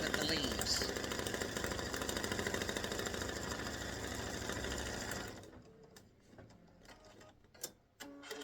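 An embroidery machine stitching small leaves onto a Mother's Day greeting card: a fast, steady, rattling needle chatter that stops after about five seconds, followed by quiet handling clicks.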